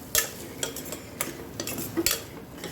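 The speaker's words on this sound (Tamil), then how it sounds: "இப்போது இந்த காயை போட்டு வதக்கணும்." Vegetables such as peas, carrots and potatoes being stirred in a pan for veg kurma, with a light sizzle under sharp scraping clicks of a spoon against the pan at an irregular pace.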